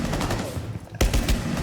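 Hand cannon gunfire in Rainbow Six Siege, a sharp loud shot near the one-second mark followed by a couple of rapid heavy blasts over a steady game background.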